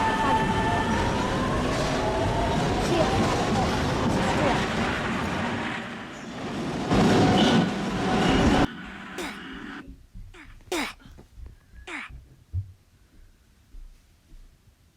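An automatic subway train on line 2 rumbles and whines steadily while in motion, loud and continuous for about eight seconds, then cuts abruptly to a much quieter stretch of scattered clicks and brief knocks.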